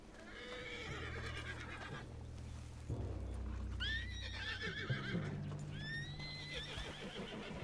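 Horse in the Red Dead Redemption video game neighing and whinnying several times, with repeated high calls over a low rumbling backdrop and some hoof clip-clop, with no talk.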